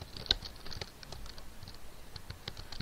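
Faint, sparse tapping on a computer keyboard, with scattered light key clicks at an uneven pace over quiet room noise.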